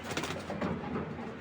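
A pigeon gives a short, soft, low coo, faint and close, among other pigeons with no talk over it.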